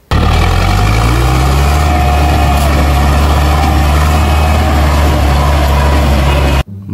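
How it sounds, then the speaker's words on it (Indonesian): A toy farm tractor gives off a loud electronic engine sound, a steady rumbling drone with a rising pitch at the start that holds evenly before cutting off abruptly near the end. "Kalau yang ini ada traktor sawah."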